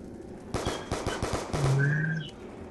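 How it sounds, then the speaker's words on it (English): Pistol shots at zombies in the game Zombie Night: a quick run of about seven sharp cracks at an uneven rhythm, loud and close, with a brief whistle-like tone near the end. "Oh, I also have my pistol. I'm going to shoot some zombies with it and get some points."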